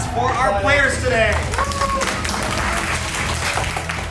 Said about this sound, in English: We all get a round of applause for our players today.